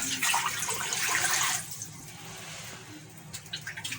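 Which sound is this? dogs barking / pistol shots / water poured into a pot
water poured into a pot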